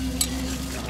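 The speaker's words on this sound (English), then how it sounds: "Oh, she's frying it fresh." Steady loud sizzling of shrimp cakes frying in hot oil at a night market in Ranong, Thailand, close by, with a couple of brief clinks.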